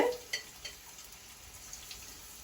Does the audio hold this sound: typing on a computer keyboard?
no